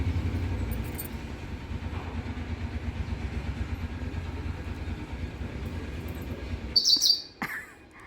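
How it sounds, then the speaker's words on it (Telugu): A small bird lets out a burst of sharp, loud chirps near the end, close by, after a stretch of low engine-like rumble and faint background noise. "ఇంత చిన్న పిట్ట ఎంత వాయిస్ చేస్తుంది చూడండి"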